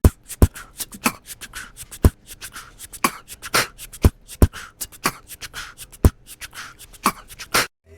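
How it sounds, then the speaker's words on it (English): Close, crisp shaker strokes repeat in a busy syncopated pattern, with regular louder accents cutting through the rattling. "Here's what the second shaker sounds like."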